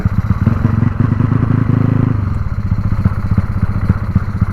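A Yamaha 110i motorcycle engine revs loud and close with the throttle only partly open, giving a continuous rapid pulsing drone with rattly clatter that eases slightly midway.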